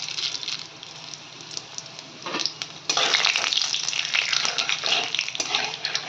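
Dry red chillies, bay leaves and whole cumin seeds hitting hot oil as a tempering for mutton curry, a steady close hiss and crackle that swells louder partway through and keeps sizzling, with no voices.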